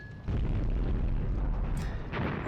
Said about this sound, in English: it could be Russian mortar fire that's coming in as well as my own barrage